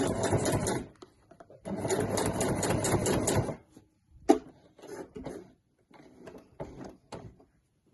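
A sewing machine stitches bag handles with a bulky seam aid under the foot, running in two long loud bursts of rapid stitching, then short stops and starts with clicks.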